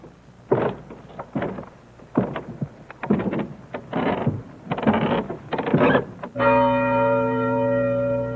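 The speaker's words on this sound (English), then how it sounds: "The bell that told the age of people who died here." After a stretch of thumping, knocking noises, a single church bell strikes and rings out in Bodie, its tone sustaining and slowly fading.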